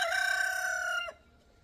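A rooster gives a single loud, close crow held for about a second before it cuts off, with quiet farmyard background after and no talking.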